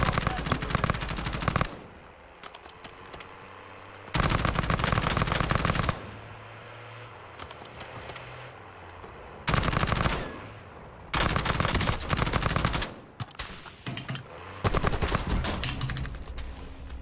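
Gunfire in a video game: loud bursts of rapid automatic shooting come in several separate volleys of a second or two each, with quieter gaps of game ambience in between.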